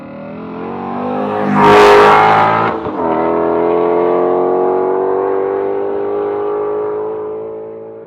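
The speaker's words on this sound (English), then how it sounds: "Now I'm going to do a 40 roll from second gear and take it all the way to the end of third gear." A Ford Shelby GT350 with resonator delete and X-pipe exhaust revs hard in second gear, a brief pause for the shift, then a strong, steady pull building again through third, loud and close.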